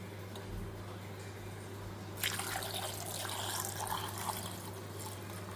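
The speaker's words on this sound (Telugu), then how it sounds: "ఇప్పుడు నేను ఇందులో వాటర్ వేస్తాను" Water poured into a pot while cooking taro root, a soft splashing pour starting partway through over a steady low hum, fairly faint and close.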